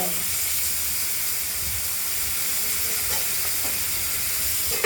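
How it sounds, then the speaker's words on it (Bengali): Fish sizzles in hot oil in a pan: a steady, even frying hiss and crackle running throughout at moderate level, with faint stirring clinks now and then and no talk. "বাকি মাছগুলো ভেজে নেবো, দুটো মাছ আছে।"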